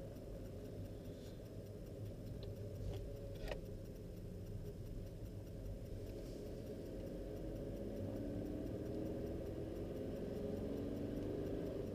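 A warm 1.2 CRI diesel engine in a Skoda Fabia Combi idles steadily, a continuous low rumble with a faint ticking on top, close and even throughout.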